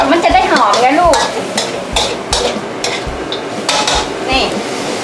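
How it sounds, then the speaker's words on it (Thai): Curry paste being stir-fried in a pan for a Thai chicken curry, with a spatula scraping and clanking against the pan in a steady, repeated rhythm over a constant loud sizzle, up close and without speech. "ทำไมเราต้องผัดก่อนครับ มันจะได้หอมไงลูก"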